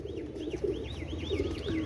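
Fancy pigeons of a Pakistani breed coo in low, rolling, repeated calls close by over a steady background hum, with a faint high whistling pattern above.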